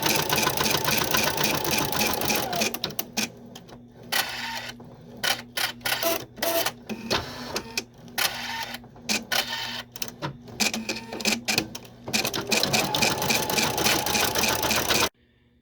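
An embroidery machine stitches a paw outline in the hoop for a Christmas stocking, its rapid needle chatter running fast and steady, then breaking into stop-start bursts of rattling stitches before resuming a continuous drive, close and alone.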